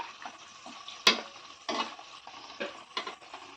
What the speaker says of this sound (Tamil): நல்லா எல்லாத்தையுமே பொரிச்சு எடுத்துக்கிட்டோம்